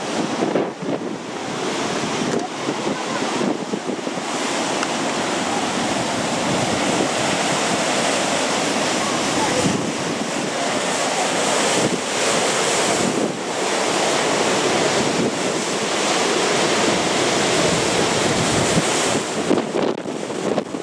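Sea waves surging and crashing at Dwejra Bay on Gozo, Malta, a loud continuous roar of surf with repeated swells, heavy wind buffeting the microphone throughout, and no speech.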